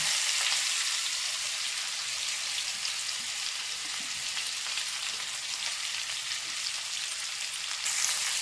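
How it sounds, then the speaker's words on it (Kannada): A garlic and spice mixture sizzles steadily in a hot pan for a curd gojju, with a dense, even hiss and faint crackles that stay constant, close and fairly loud throughout. "ಈಗ ಸ್ವಲ್ಪ ಫ್ರೈ ಮಾಡ್ಕೊಳ್ಳೋಣ."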